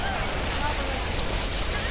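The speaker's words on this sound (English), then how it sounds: "A beautiful fountain." A water fountain runs with a steady rushing splash along Kartavya Path near India Gate, outdoors amid wind and faint voices.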